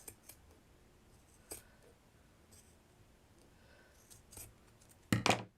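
Scissors snip a doll's hair fringe in a few quiet, close cuts, scattered light clicks leading to a louder cluster of snips at the end, with no talking.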